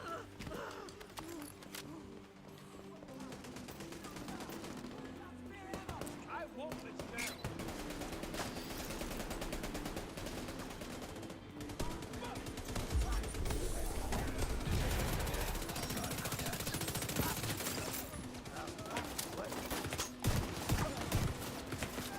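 Sustained gunfire and explosions from The Division 2, a PvE shooter on heroic difficulty, fill a dense, loud battle scene, with a heavier burst midway and a player talking over it.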